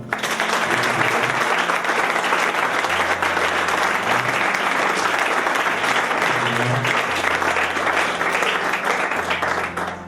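A church congregation applauds loudly and continuously, a dense wash of many hands clapping at once, steady for the whole stretch, with faint voices mixed underneath.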